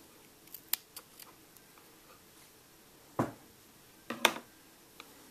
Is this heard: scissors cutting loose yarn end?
yes